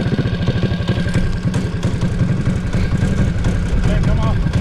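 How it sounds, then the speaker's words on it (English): An old go kart from an abandoned chicken farm, its engine boosted to triple power, runs loud and close with a rapid pulsing chug and rising revs throughout. "I thought I heard it rev up. This thing looks like it hauls butt."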